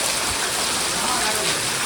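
Heavy rain pours down at night during a vigil gathering, a steady dense hiss filling the clip from start to finish with no breaks, loud and close, with no other distinct sounds standing out.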